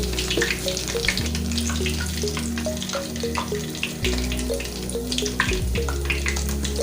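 Akara bean batter sizzles and crackles steadily in hot frying oil, a loud, dense spatter with small clinks and bubbling throughout, no voices.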